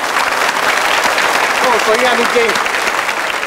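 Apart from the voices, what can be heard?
studio audience cheering and applauding on Iron Chef Thailand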